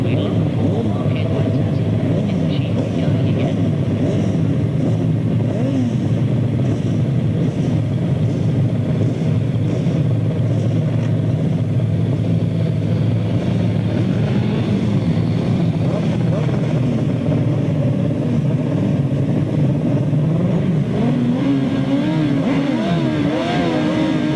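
1000cc right-hand sidecar racing outfits get underway at the start of a race, engines droning and revving in a layered, continuous roar at a distance, with a commentator talking over them throughout.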